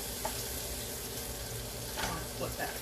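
Squash fries in a pan with a steady sizzle while a utensil stirs it, adding a few scraping, shuffling touches near the end.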